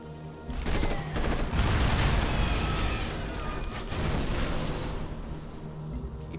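Bombing attack in the strategy game Civilization: Beyond Earth, a dense, continuous barrage of explosions and crackling blasts filling the whole stretch, loud and close with no talk.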